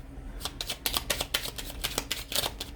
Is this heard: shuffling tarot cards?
yes